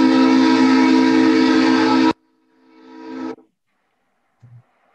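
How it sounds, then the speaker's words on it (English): A train on railway tracks gives a loud, sustained horn blast that cuts off abruptly, then a rising rushing swell and a brief faint thump. "the train killed me dead"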